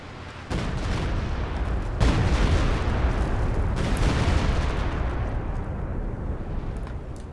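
A Stuka artillery barrage in Company of Heroes 2 pounds down as a continuous roar of rumbling explosions that swells after a sudden onset and then slowly thins out.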